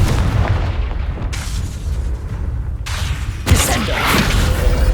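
Booming fire-spell blasts from Hogwarts Legacy gameplay: a few loud bursts, with the sharpest one near the end, over a rumbling game soundscape and no speech.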